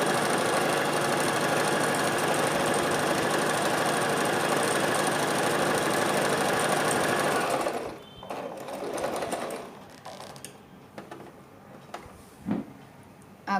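A Singer 1306 sewing machine stitches a wide zigzag at a steady, fast, close whir for about eight seconds before stopping, followed by quiet fabric handling and small clicks.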